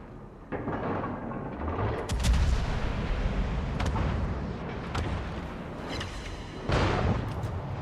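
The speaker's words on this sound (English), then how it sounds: "at this angle, two guns can shoot." Battleship main guns fire in a naval video game, heavy booming salvos at about two, five and a half and seven seconds, rolling into a low rumble between them. No one talks over the blasts.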